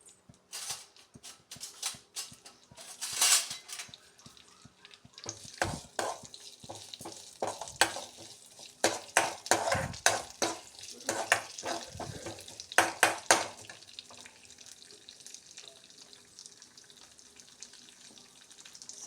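Lentils roasted in a little oil in a pan on a gas stove while being stirred, with irregular scraping and rattling strokes over a faint sizzle, busiest in the middle and tapering off near the end.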